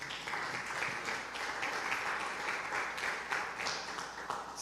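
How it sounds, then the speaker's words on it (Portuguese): A church congregation stands and applauds the Lord, a steady wash of clapping heard at a distance and fairly faint, lasting throughout with no break. "Fique de pé e aplauda o Senhor"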